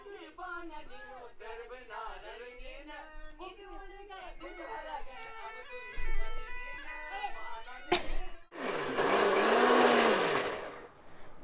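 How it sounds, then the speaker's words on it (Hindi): Mixer grinder grinding soybean for veg momos, a loud steady whirring burst near the end, after a stretch of lively talking voices. "सोयाबीन को बारीक पीसने के लिए ऐसे मिक्सी को हवा में चलाएं।"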